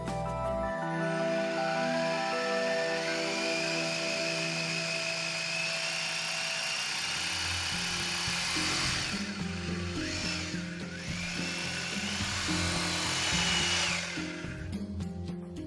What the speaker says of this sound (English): make holes in the wall using an appropriate drill bit